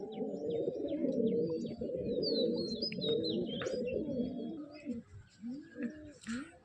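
Pigeons cooing in a loft, including a Kalanka hen, with dense overlapping low coos and scattered chirps, steady and close, thinning into separate rhythmic coos toward the end.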